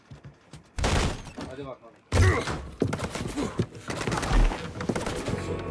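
Gunfire bursts in the Mafia 3 video game, loud rapid shots in two clusters amid shouting voices and speech.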